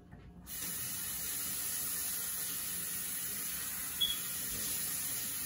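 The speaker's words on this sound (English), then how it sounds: "So I'm going to rinse this off." Tap water runs over raw pork ribs in a kitchen, a steady close hiss that starts abruptly and continues evenly, with a brief small clatter near the end and no talking.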